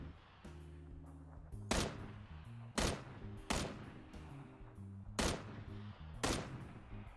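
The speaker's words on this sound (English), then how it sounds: "I'm gonna see if I can fucking land this shot." Repeated sharp rifle shots in the PUBG video game, five or so loud cracks spaced roughly a second apart over a low musical backdrop.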